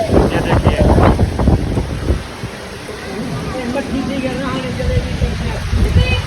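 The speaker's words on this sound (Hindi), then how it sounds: "फुल ज़बरदस्त बारिश है यार।" Steady rain pours down with broadband hiss and gusts of wind, while someone talks loudly over it throughout.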